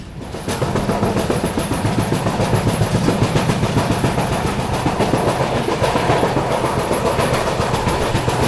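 An Indian Railways passenger train rolls steadily along the rails past Veer station, with a continuous rumble and rhythmic clickety-clack, loud and close throughout, with no voices.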